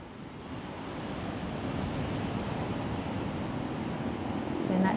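Ocean waves wash onto the shore in a continuous, steady surf roar, swelling slightly louder toward the end, with some wind noise.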